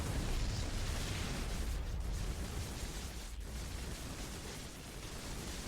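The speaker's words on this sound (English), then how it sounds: "some disruptor shot that hits absolutely nothing" A StarCraft II disruptor shot exploding, heard as a dense, sustained roaring blast that fills the whole clip at steady loudness, with no talk over it.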